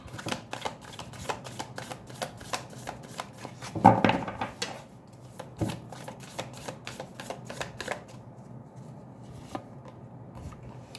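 A deck of tarot cards being shuffled by hand, a rapid series of crisp riffling snaps and flicks, close and fairly quiet, with one louder rustling burst midway and no talking.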